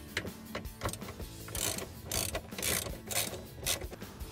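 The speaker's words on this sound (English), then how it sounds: "you have to remove the two screws on the sides first. This is a T40 Torx head." A hand ratchet clicks in quick bursts while backing out T40 Torx screws on a Polaris RZR 1000XP side-by-side, the close ratcheting coming in several uneven runs with short pauses.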